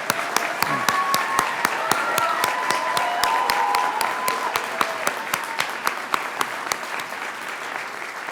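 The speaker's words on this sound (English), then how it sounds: "Will the audience please join me in one last round of applause?" Steady, dense applause from the audience at a fall commencement ceremony, one last round for the graduates, sustained and even for the whole stretch with a few sharper individual claps standing out.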